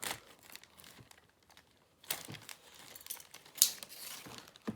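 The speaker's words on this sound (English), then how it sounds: "grab your sheet of plastic, and then just cut another square of plastic" Scissors cut a square from a plastic sheet up close, with crinkling and crackling of the plastic in bursts, a louder rustling stretch in the second half and a few sharp snips.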